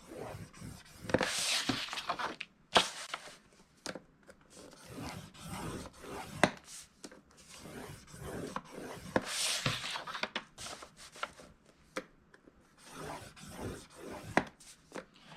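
Paper is scored by hand along all four sides for a nesting box, giving repeated scratchy rubbing strokes with short pauses between passes, fairly quiet and close, with no talking.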